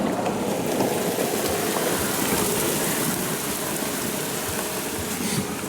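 Steady rain falls outside by an outdoor kitchen, a dense even hiss of drops on surfaces that stays constant and fairly loud throughout, with no voices.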